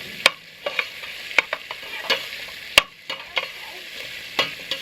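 Onions softening in a pan over a campfire, a gentle hiss punctuated by sharp irregular clicks and scrapes of a utensil stirring, close and moderately quiet, no voices.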